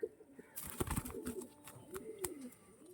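A pair of Chennai beat pigeons coo softly at close range, giving a few low, rolling coos with faint clicks and rustling between them.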